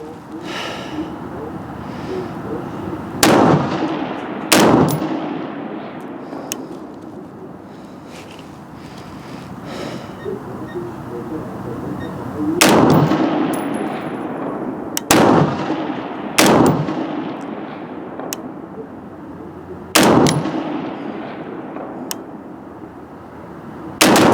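Rifle fired prone at 300 m, fitted with a Holosun 503 sight and 3x magnifier, cracks out about eight sharp, loud shots in irregular pairs, each with a rolling outdoor echo over a steady breezy background.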